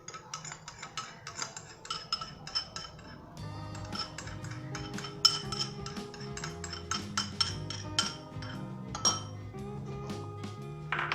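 Light clinks and taps of a spoon against a small bowl as tomato ketchup goes in, quick irregular glassy ticks close up, with faint background music and no speech.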